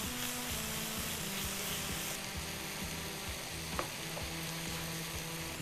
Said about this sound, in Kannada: ಚೆನ್ನಾಗಿ ಹುರಿಬೇಕು.